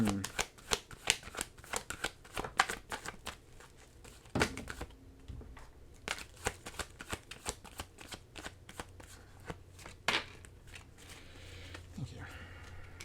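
Tarot cards are shuffled, producing rapid crisp flicks and riffles in irregular bursts, close and fairly quiet, with occasional heavier taps between runs.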